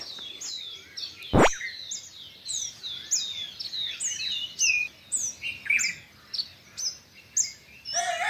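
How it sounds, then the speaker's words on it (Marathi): Many birds chirp and call in a rural Maharashtra countryside morning, a busy chorus of bright repeated tweets, fairly near and clear, with one sharp click early on and no talking. "सकाळचं बघा हे आवाज, खूप साऱ्या पक्ष्यांचा आवाज."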